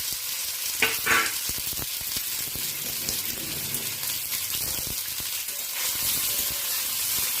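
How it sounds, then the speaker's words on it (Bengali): Paneer frying in hot refined white oil, a steady bright sizzle and crackle close up, with a few louder spits and stirring clatters near the start. "সাদা তেলটা গরম হলে পনিরগুলোকে ভাজতে দিয়ে দেব।"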